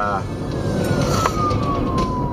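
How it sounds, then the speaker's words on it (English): An ambulance siren wails as it approaches a moving car, its tone sweeping steadily over loud road and engine rumble. "Ambulance is headed this way."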